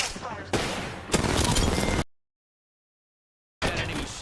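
Gunfire from a shooter video game comes in dense, sustained bursts, loud and close. It breaks off into a second and a half of silence, then resumes.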